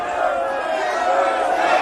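An angry crowd in the city of Ephesus shouts together in a loud, dense, sustained roar of many voices with no pauses.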